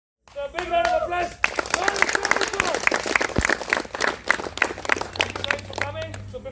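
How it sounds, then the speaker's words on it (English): Audience at an Apache motorcycle owners' chapter gathering breaks into steady, dense applause that starts abruptly and continues loud and close for several seconds, with voices mixed in. "So a big round of applause."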